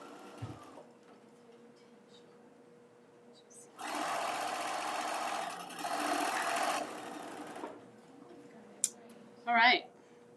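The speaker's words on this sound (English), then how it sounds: "So I'm over here and I'm sewing my 1/4 inch seam." A sewing machine stitches a quarter-inch fabric seam in two steady motor runs of several seconds each, close and fairly loud, with a short pause between them; quiet handling sounds come before and after.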